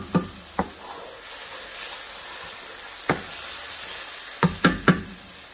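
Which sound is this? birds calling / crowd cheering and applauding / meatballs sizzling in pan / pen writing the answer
meatballs sizzling in pan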